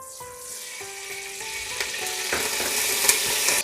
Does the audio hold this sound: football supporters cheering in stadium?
no